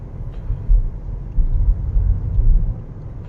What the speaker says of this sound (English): I think I left the back windows open, so a bit of noise there